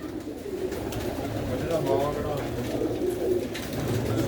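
Pigeons coo steadily through a breeding shed fitted with nesting boxes, a continuous close murmur of overlapping soft calls, with a voice talking faintly beneath the birds.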